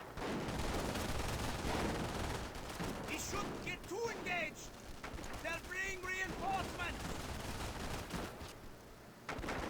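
Sustained battle gunfire from Company of Heroes, a dense, continuous crackle of shots and rumbling explosions with voices shouting over it.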